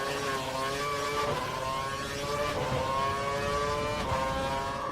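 Formula One car engine racing at the Singapore Grand Prix in the F1 2012 game, a steady high-pitched engine whine with shifting tone as it holds speed, loud and continuous with no talk.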